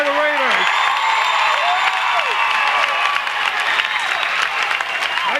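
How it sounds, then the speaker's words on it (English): Roaring crowd at a high school boys varsity basketball game between Rutland and Mill River, with sustained cheering and clapping filling the gym and voices cutting through the din. "the crowd noise says it all"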